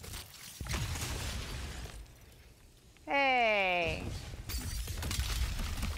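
Shatter Dive ability in Destiny 2 lands with a short crystalline shattering burst followed by a bright rising tonal chime lasting about a second, amid game noise and a brief shout.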